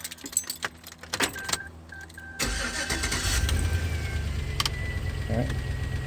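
Keys jangle close by in a 2004 Chevy truck, then the engine cranks and catches, settling into a steady idle for the remaining seconds.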